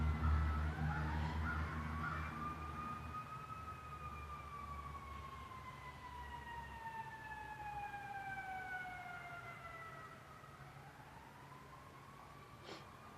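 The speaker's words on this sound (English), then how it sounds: "It's like the sirens are circling the block on purpose." City emergency sirens wail in long rising and falling sweeps, heard at a moderate distance with one siren layered over another and a low steady rumble beneath, fairly faint overall.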